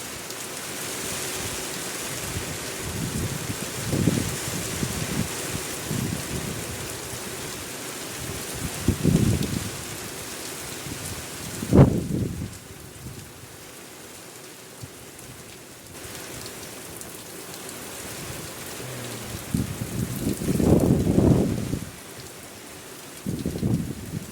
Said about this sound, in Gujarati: એવો વરસાદ પડતો જાય. પાણી ઉડે.